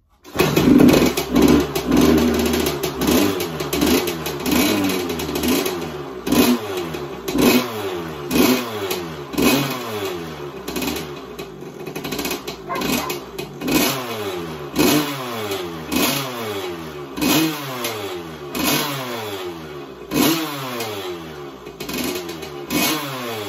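A 1982 Kawasaki KX125 motorcycle engine runs nearby and is revved again and again, each blip rising and falling in pitch in a rapid, uneven rhythm throughout.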